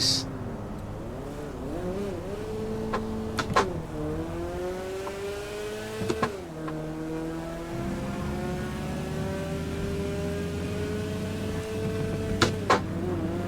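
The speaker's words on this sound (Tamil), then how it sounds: "இதோட எக்ஸாஸ்ட் நோட் அப்டேட் கேளுங்க" A loud, steady Honda Civic engine in GTA 5 drones and shifts pitch as gears change, with sharp clicks punctuating the continuous exhaust roar.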